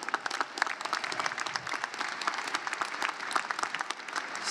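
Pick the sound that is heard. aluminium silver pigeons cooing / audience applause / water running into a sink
audience applause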